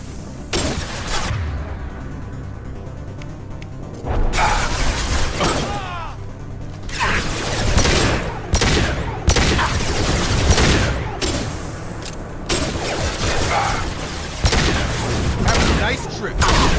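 Gunfire from the Mass Effect 2 video game, bursts of shots with mechanical clatter recurring throughout, loud and close, mixed with game sound and occasional voices.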